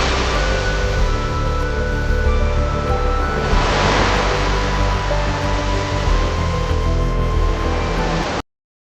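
Pacific ocean surf on a wide beach along a forested coastal trail, a loud, steady wash of breaking waves with a faint tonal backing underneath, cutting off abruptly at the end.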